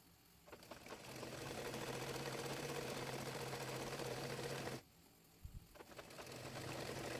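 A sewing machine stitches palazzo pants in a steady, buzzing whir that runs for about four seconds, stops briefly, then starts again, close and fairly quiet with no talking.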